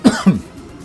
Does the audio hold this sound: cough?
yes